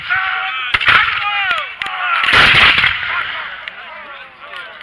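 Musket fire at a Battle of Fort George re-enactment, with a few sharp, loud reports over a dense bed of crowd noise and chatter, and a broad rumbling volley in the middle.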